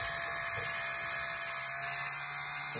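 Brushless motor of a Blade Nano CPx RC helicopter spooling up indoors, a steady high-pitched electric whine with bright tonal lines held close and continuous, no voices.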